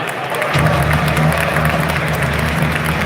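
A large crowd at a Magic: The Gathering panel at MagicCon Las Vegas claps and cheers in a loud, sustained roar with a low hum beneath it.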